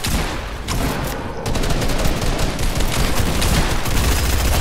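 Rapid Fortnite gunfire, dense bursts of shots crackling continuously and loudly, briefly easing before a heavier stretch of firing.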